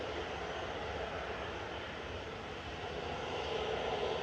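EasyJet Airbus A320neo jet at Manchester Airport, heard as a steady, broad engine roar that holds level throughout and swells slightly toward the end, with no talking.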